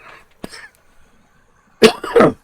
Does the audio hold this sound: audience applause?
no